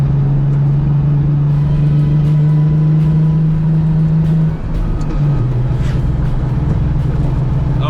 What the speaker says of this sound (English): We are misfiring pretty badly right now